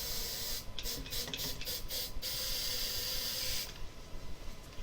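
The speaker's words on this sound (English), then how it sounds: "what I'm going to add here is some canned smoke. And so as I add the smoke," Canned smoke sprayed from an aerosol can into a container for a demonstration of hot and cold air, heard as a series of short close hissing bursts followed by a longer spray.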